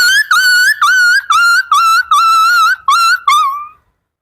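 A human voice imitates a dog yelping and crying as if beaten, giving a run of loud, close, high-pitched wavering whines in short bursts that fade out at the end.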